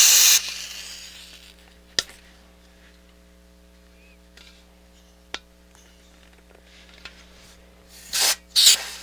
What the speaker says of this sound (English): I'm going to spray some of these front end transistors.